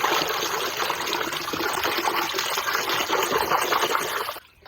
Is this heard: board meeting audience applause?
no